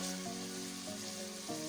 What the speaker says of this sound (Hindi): वक्फे वक्फे से चम्मच को चलाते रहेंगे ताकि चिकन हर तरफ से अच्छी तरह फ्राई हो जाए।